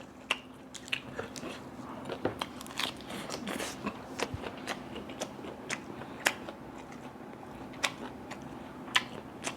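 Crunchy grilled pork ear, eaten with grilled pork intestine and a tangy jaew dipping sauce, is chewed close to the mic in a steady run of crisp crackling bites and squishy chews over a low background hum.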